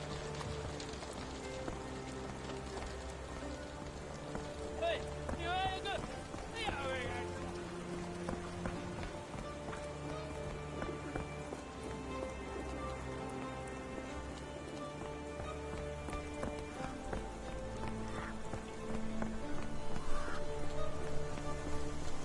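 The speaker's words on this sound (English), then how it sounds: "This dreary rain is making a miserable day even worse." Steady rain patters and hisses in the game Sherlock Holmes: The Awakened over a continuous background of game music and tones, getting slightly heavier toward the end.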